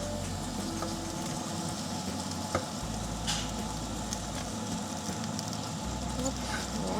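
Shredded cabbage frying in a pan for chou knacki, giving a steady dense sizzle throughout with a low rumble underneath and a few small clicks and crackles, close and even.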